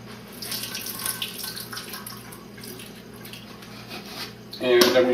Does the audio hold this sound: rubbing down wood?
no